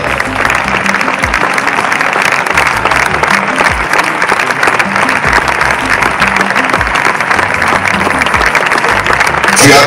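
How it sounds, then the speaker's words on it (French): A large church congregation of some two thousand people applauding loudly and continuously, a dense, sustained roar of clapping filling the space with crowd noise and voices mixed in. "Acclame très fort pour le Seigneur."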